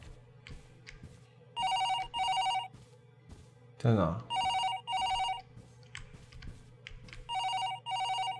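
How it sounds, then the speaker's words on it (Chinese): In the horror game Paranormal HK, a telephone bell rings in repeated double bursts, loud and clear, with a pause between each pair. Someone speaks briefly in the middle of the ringing. "电话响，这个时候谁打电话给我呀？"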